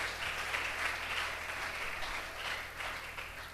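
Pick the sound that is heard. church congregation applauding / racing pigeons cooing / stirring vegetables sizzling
church congregation applauding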